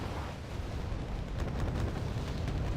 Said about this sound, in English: The artillery is just constantly pounding the infantry, taking quite a nice amount of those BTR-90s out.